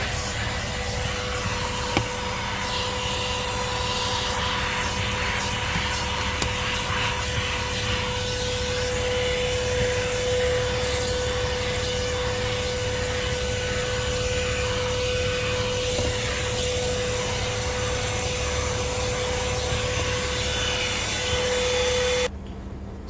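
Corded TWC 01 car vacuum cleaner running continuously with a loud, steady motor whine and airflow rush, a constant high tone throughout, cutting off abruptly at the end.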